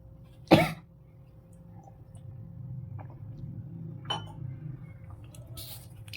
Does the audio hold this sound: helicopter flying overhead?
no